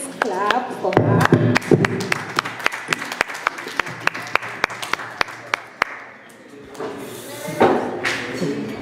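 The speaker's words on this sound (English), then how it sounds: "Let's please clap for her." An audience at WordCamp Masaka claps for a speaker. Loud, sharp, rhythmic handclaps ring out close by, tapering into a looser spattering, while voices talk at the start and again near the end.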